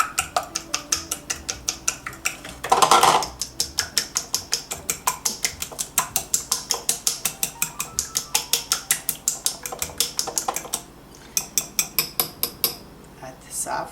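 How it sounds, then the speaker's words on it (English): Eggs beaten in a bowl with a fork or whisk, a fast, steady run of sharp clicking taps against the bowl that goes on continuously and close, with a brief louder clatter near the start and a short pause toward the end. "Now we're going to beat the eggs."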